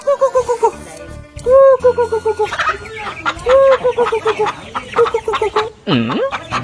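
Chickens cluck and a rooster crows in a rural Bangladeshi farmyard, the birds calling in repeated bursts, close and loud, with one long drawn-out call near the end.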